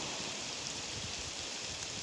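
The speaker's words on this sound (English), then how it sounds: "It was just about to lash down with rain" Rain beginning to lash down outdoors, a faint, steady hiss of drops falling on surfaces with no talking.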